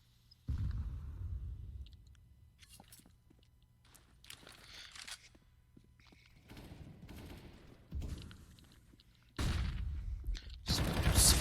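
Bursts of gunfire in a competitive Counter-Strike: Global Offensive match, several close volleys and rapid shots separated by quieter stretches, with no talk.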